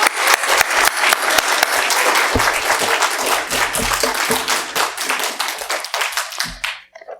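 A church congregation gives loud, enthusiastic applause to welcome a pastor, many hands clapping close and dense, with a few sharper claps standing out before the clapping thins and fades at the end.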